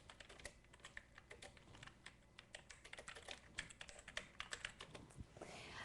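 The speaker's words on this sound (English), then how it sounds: "let me type that here." Rapid typing on a computer keyboard, a steady run of close, crisp key clicks with uneven rhythm and occasional heavier strokes, heard alone without talking.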